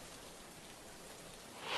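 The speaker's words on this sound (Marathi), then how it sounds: "खूप मोठ्या प्रमाणावर आपल्या भागामध्ये पाऊस पडतोय" Heavy rain falls in Pune as a faint, even hiss of drops with no break, swelling slightly at the very end.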